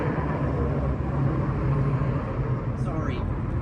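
An underinflated tire on a passing truck gives off a loud, steady rumbling roar that fills the whole stretch with broadband noise.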